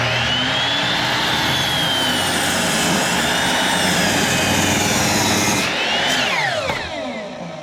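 A Ryobi sliding miter saw makes a bevel cut, its loud high motor whine running steadily for several seconds before the pitch falls as the blade spins down.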